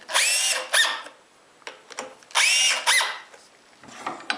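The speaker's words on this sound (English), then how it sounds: "now I can use my right angle drill once again to screw them in" A right angle drill drives screws into the wooden jaws of a woodworking vise: two long whirring bursts with a few short, sharp spurts between them, close and loud against a quiet room.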